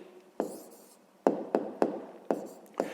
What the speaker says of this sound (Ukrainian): Я тут запишу, пишемо відповідь.